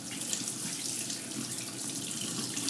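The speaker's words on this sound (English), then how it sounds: "So I'm just going to rinse the salt off real good," Tap water runs steadily into a sink over a salted steak being rinsed off, a constant close splashing hiss with no talk.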